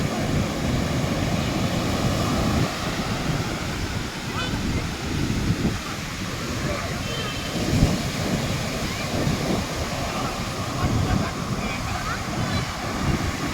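Sea waves surge and break along the beach at Puri, producing a steady, loud roar of surf with wind buffeting across the whole stretch.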